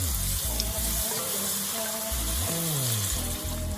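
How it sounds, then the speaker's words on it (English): Cold milk is added a little at a time to a pan and whisked into a thick base for homemade mac and cheese sauce. A steady, close wash of sizzling and liquid swishing runs throughout with no talking. "I'm just gonna keep adding in milk, a little bit at a time, just cold milk."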